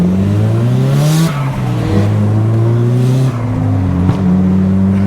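A Nissan RB engine in a JDM car cruising, loud and close, with steady harmonic engine drone rising and falling as it revs through gear changes, swelling in pitch several times over a few seconds.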